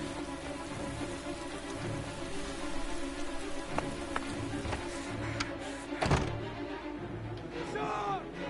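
Steady rain falls through a scene in the video game Heavy Rain, a constant hiss of drops with a few sharp clicks and knocks over it, and no one speaks.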